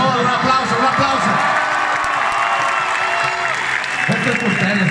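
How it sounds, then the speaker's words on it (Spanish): Concert crowd at a live show in Monterrey, Mexico, applauding and cheering loudly, with whoops and shouting voices mixed into a continuous roar. "un aplauso, un aplauso"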